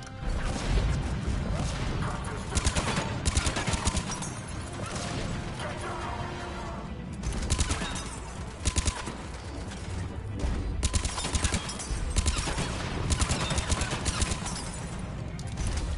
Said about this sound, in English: Oh, that's the shotgun.